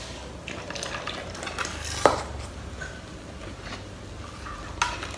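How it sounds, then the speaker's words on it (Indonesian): Pre-boiled coconut milk is gradually stirred into a batter for baked talam cake, with soft swishing stirring, faint liquid sounds and a couple of sharp clinks of utensil on pot. "ini kita campurkan sedikit demi sedikit santannya"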